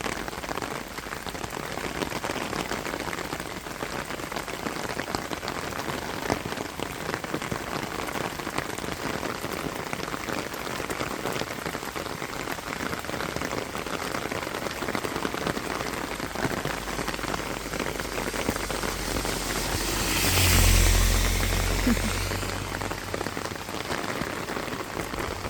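Steady rain pattering on a surface, dense and continuous, with a brief louder swell near the end.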